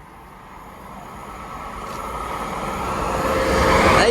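Class 807 electric train passing through Lichfield Trent Valley station on a Liverpool Lime Street to London Euston run, a broad rushing roar that swells steadily as it draws nearer, loudest at the end.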